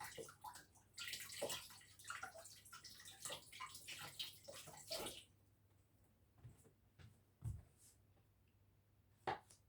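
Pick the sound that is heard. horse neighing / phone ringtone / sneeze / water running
water running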